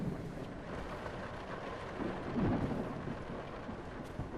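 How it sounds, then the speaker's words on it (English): Rain with a low rumble of thunder in the Backrooms video game, a faint, steady wash of rainfall and a soft swell of distant rumbling midway. "God damn it, the rain"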